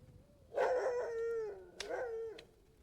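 A dog howls in two drawn-out, wavering cries, the second slightly shorter, fairly close and clear over a quiet background with no talking.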